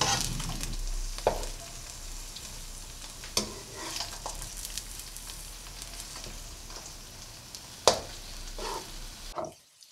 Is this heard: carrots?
yes